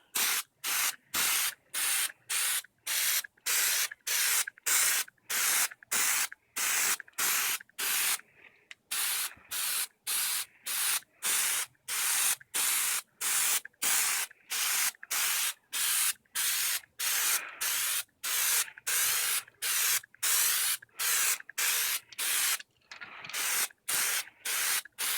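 Spray paint can sprayed in short, regular bursts onto a homemade Batman cowl mask resting on a masked mannequin head; about thirty crisp hissing blasts follow one another in a steady rhythm, close and fairly loud, with brief silences between.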